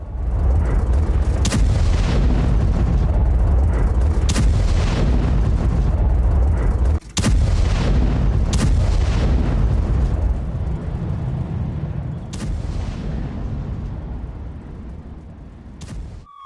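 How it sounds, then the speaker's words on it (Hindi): Loud, continuous rumbling barrage with repeated sharp booms and blasts cutting through, sustained artillery fire and explosions in Gaza throughout, no voices. "ये धमाके की आवाज आप जरा सुनिए"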